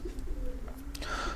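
Adult pigeons coo softly inside a pigeon loft, a low throaty call rolling briefly and faintly against a quiet background.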